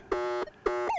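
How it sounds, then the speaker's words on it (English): Two identical buzzy tones from a TDI SL metal detector sounding off an iron nail target, each lasting about a third of a second with a short gap between, the second ending in a rising chirp. "That's iron. Usually, that's the sound of a nail right there."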